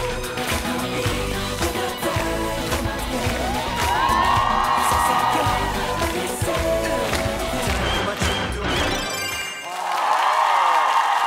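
Studio audience on a Korean TV variety show clapping and cheering, a dense wash of applause with whoops mixed over music and background noise, steady throughout and swelling near the end.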